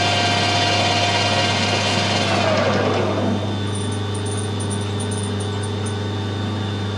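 A grinding wheel sharpens the point of a hardened steel scriber, a steady motor whine running throughout with a rougher grinding rasp for the first few seconds before the wheel spins on freely.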